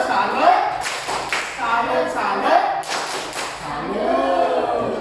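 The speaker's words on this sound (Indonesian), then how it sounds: "Kita kasih tepuk salam dulu." A classroom group of students performs the tepuk salam clapping chant, voices chanting together in short phrases punctuated by bursts of hand claps, close and fairly loud.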